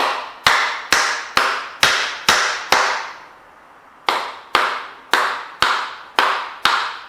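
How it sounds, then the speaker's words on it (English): Sharp, hard knocks from the wooden handle of a tool striking an engine piston on a turbocharged CX500 mini hot rod: five evenly spaced hits, a pause, then six more, each ringing briefly and heard close up. "I'm going to hit this with the wooden part of the handle just to see if it moves at all"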